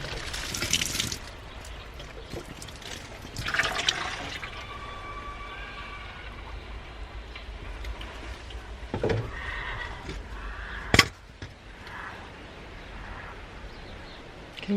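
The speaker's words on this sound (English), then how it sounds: "hear the horses." Horses in the countryside whinny out in the open, one loud neigh early and more calls later, alongside faint trickling water and scattered handling noises.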